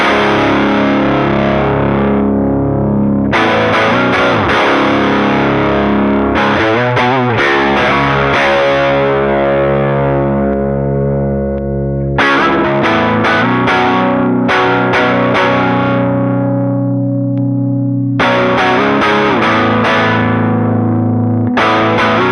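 An electric guitar runs through amp models on an Antelope Audio ZenTour Synergy Core interface, producing heavily distorted, effects-laden chords and sustained notes that ring out continuously with a few brief pauses between phrases, loud and without speech.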